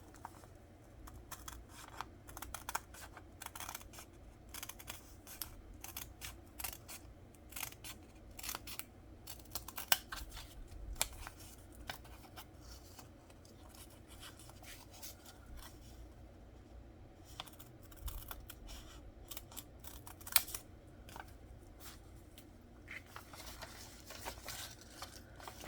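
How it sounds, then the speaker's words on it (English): Scissors cutting leather with repeated, quiet, crisp snips in an irregular rhythm over a low background hum, close to the listener. "maybe I should just use scissors"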